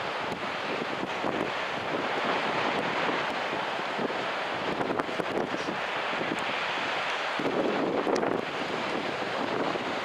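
Steady ocean surf and gusting wind at Sendai Newport beach in winter, a continuous broadband wash with heavy wind buffeting on the microphone and no voices.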